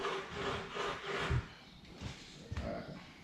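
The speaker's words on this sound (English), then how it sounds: "We're gonna take a sanding block to this as well." Sanding block rubbed back and forth over wood, a quiet rhythmic rasping scrape repeating in short strokes, close by with no speech.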